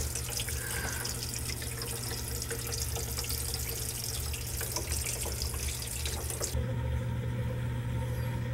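Water runs and gurgles steadily in a sink that drains slowly, a constant close wash of flow over a low hum, shifting in tone near the end.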